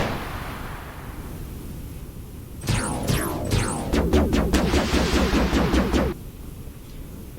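A boss in Islands of War unloads a fast chain-gun barrage, a loud run of rapid, evenly spaced shots with sweeping whine-like tones, lasting several seconds before cutting off into quiet background.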